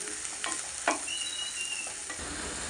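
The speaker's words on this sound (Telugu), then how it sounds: "వేగాలి ఫ్రెండ్స్, ఉల్లిపాయలు వేగాలి." Onions fry in a pan for a prawn curry, a continuous close sizzle broken by a couple of soft stirring knocks, with no one speaking.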